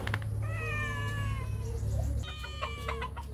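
Two pet cats named Moishi and Tisay meow in a backyard, with two drawn-out, wavering meows close by, while a rooster crows and hens cluck steadily in the background.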